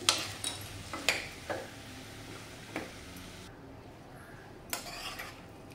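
A metal spoon clinks and scrapes against a pan while pressing and mixing samosa vegetable filling, a few sharp taps spread out over quiet background stirring, close and clear without talk.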